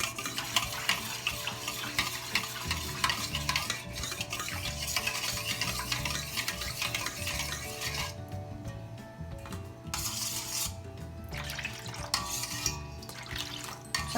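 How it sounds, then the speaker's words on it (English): Yogurt and warm water are whisked together in a bowl for idli batter, giving a continuous close, wet stirring and sloshing with short pauses between strokes. "I'm going to whisk it and mix the water properly."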